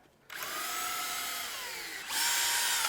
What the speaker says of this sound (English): And we drill into there.